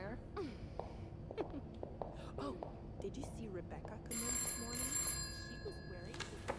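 A telephone rings in a room partway through, its bright electronic trill loud and sustained for about two seconds after scattered soft speech and small movement noises.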